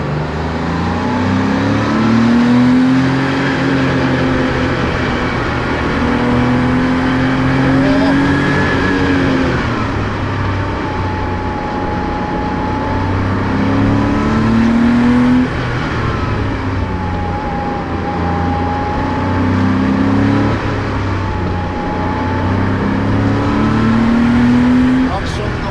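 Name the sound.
Porsche 911 Speedster prototype accelerating uphill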